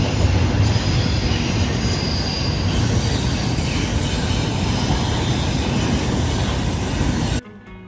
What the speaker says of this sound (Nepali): ट्रेन हो, सामान बोक्ने ट्रेन।